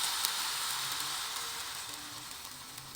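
Pancake batter made from banana and oatmeal fries in a hot pan with a little oil, giving a steady soft hiss and sizzle throughout, fairly faint, with no voices.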